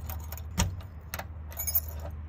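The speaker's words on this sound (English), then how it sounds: "let's see if any of these keys open up this" A bunch of keys jangles and clinks in bursts while someone tries them in the lock of a garage door, metallic rattles separated by short pauses with a low hum behind.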